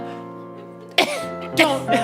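A sustained musical tone gives way to two harsh, close coughs about half a second apart, loud against the fading note.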